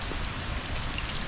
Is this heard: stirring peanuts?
no